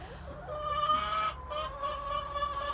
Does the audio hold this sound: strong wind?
no